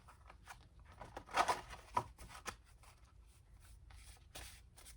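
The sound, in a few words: shuffling a deck of tarot cards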